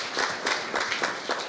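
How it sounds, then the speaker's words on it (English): Wedding guests clap in a short, steady round of applause, moderately loud and close, with no voices over it. "so applaud yourselves."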